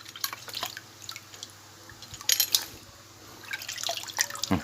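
Water passes through a cleaned carburetor jet, falling in close, irregular drips and small splashes with a brief heavier trickle, against a faint background hum.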